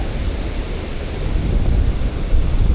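Ocean surf at Oceanside Beach in Tillamook, Oregon rumbles steadily, with deep waves washing in and heavy wind buffeting the microphone throughout.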